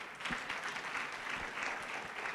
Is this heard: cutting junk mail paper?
no